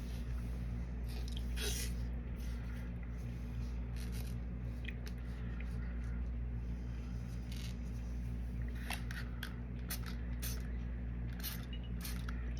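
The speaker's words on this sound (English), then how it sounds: "Spray it with the alcohol, get any bubbles out" Several short hissing bursts of alcohol sprayed onto resin, some in quick pairs, over a constant low electrical hum; no one speaks.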